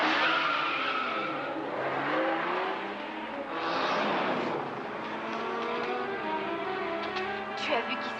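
A car drives off with tires skidding and squealing, engine revving under a loud, sustained screech that rises and falls over several seconds, fairly close.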